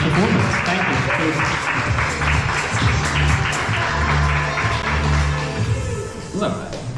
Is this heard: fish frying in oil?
no